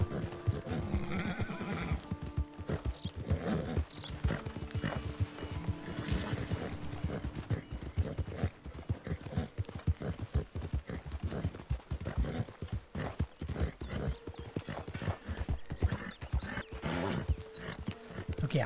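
A horse in Red Dead Redemption 2 clops along in a busy stream of hoofbeats, breaking into loud whinnies and snorts near the start, with game ambience behind.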